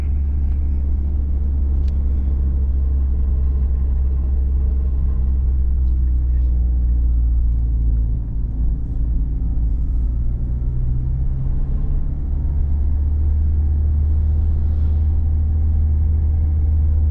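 A Ford Sierra 2.0i Ghia drives along with a constant deep engine drone and road rumble from inside the cabin, the engine note shifting slightly as it pulls, no talking.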